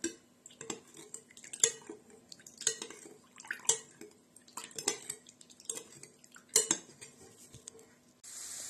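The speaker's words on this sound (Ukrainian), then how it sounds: "Все це ми перемішуємо, і буде це наша заливка." A spoon stirs a sauce of salt, sugar and water in a dish for baked hake, giving repeated light clinks and taps of metal against the dish at an uneven, rhythmic pace, with no talk.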